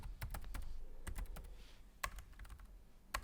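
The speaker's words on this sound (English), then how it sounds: "you type in your login data, which is your email address" Login details are typed on a computer keyboard for an online shop, a close run of crisp clicking keystrokes in quick bursts with brief pauses between them.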